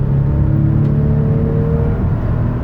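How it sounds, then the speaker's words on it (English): A 2017 Toyota Sienna LE wheelchair-accessible minivan accelerates on the road, its engine holding a steady droning hum with a rising whine and road rumble throughout, heard from inside and with no talking. "So let me get out and give it some gas."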